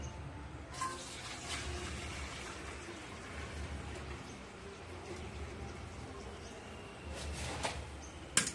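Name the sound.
rice-washing water being poured into a pot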